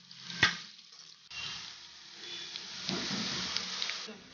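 Cumin and cashews frying in a pan for Ven Pongal, a soft crackle that swells into a steady sizzle after a brief clink, close by with no talking.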